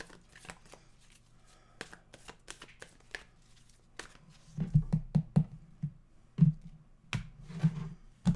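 Tarot cards are handled and shuffled close by. Soft riffles and flicks turn into a run of heavier thumping shuffles and taps toward the end, with no speech.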